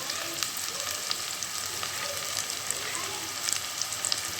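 Sliced onions and curry leaves fry in hot oil for a chicken gravy, producing a continuous close sizzle dotted with small crackles and pops that grow busier toward the end.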